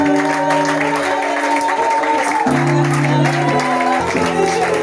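A church congregation applauds and cheers in praise of the Lord, with continuous clapping and raised voices mixed with music-like tones that shift partway through.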